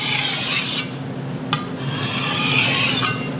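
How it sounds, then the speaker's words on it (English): A Chinese cai dao cleaver glides over a 600 grit DMT diamond plate under light pressure, giving a steady dry rasping scrape in long strokes with short breaks near one and a half and three seconds. "set the Cai Dao on the 600 and apply light pressure and let it smoothly glide over the 600 grit, 600 mesh"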